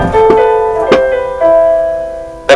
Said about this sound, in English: we're only hearing the B section of the Lost Woods theme